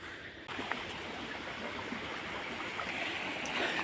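Clear stream water rushes steadily at Kayilai waterfall amid tall grass, a continuous broadband wash that starts softer and swells to a full, even flow within the first half second, with no talk over it.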